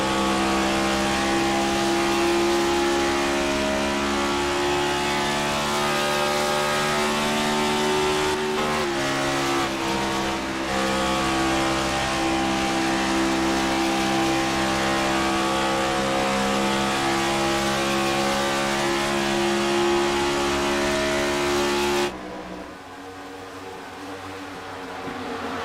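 Race car engine in a Texas cup series race, a loud sustained drone that dips in pitch as it downshifts, then drops off abruptly near the end, heard up close with no talk.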